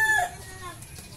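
Poultry calls from a Light Brahma rooster kept with partridge hens, a short bird call near the start followed by softer clucking and faint background noise over about a second.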